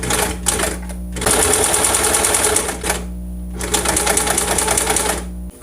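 A sewing machine runs close by, stitching an angled corner seam in fabric: steady rapid mechanical chatter in two long bursts, separated by brief pauses where the fabric is stopped and pivoted. No voices are heard.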